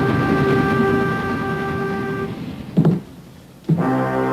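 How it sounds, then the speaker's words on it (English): A circus train passing a station gives a long, steady horn blast, then a couple of heavy clanks and a second short horn blast. "Stop! Stop that train!"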